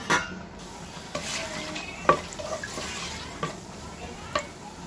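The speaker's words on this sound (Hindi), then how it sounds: "तो मैं इसमें डाल रही हूँ साबुत मसाला" Whole spices sizzle and crackle in hot vegetable oil: cumin seeds, bay leaves, cloves, cardamom and mace. A steady close frying hiss runs underneath, broken by a few stirring scrapes and clinks.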